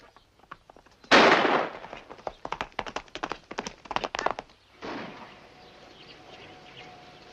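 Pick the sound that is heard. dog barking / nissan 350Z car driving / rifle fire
rifle fire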